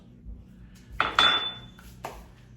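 Utensil clinking and scraping against a bowl as casserole ingredients are mixed, a few short metallic clinks and a brief scrape in otherwise quiet surroundings.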